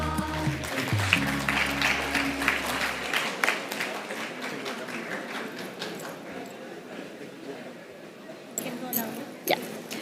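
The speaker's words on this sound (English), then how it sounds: "Please give all of them another warm round of applause." Audience applause for a group of people on stage, a dense wash of clapping that builds and then thins out, with a low hum at the start and a few louder claps near the end.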